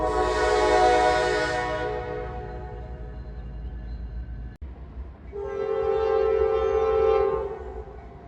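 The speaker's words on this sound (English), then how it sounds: "So there's gonna be another train coming this way" An eastbound double-stack intermodal freight train on the Norfolk Southern sounds its horn near a railroad diamond: two long, loud blasts with a brief break between them, over a steady rumble of the moving train.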